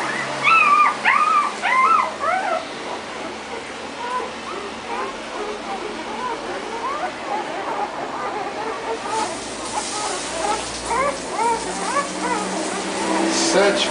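A litter of seven newborn puppies, some nursing, whimper and yip in a high, wavering chorus of squeaky cries, close and continuous, with people talking quietly over them.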